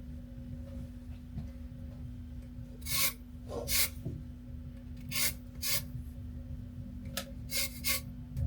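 A lemon is zested for a Bavarian plum cake with short bursts of scraping and rasping against the grater, several quick strokes in clusters, close by over a steady low kitchen hum.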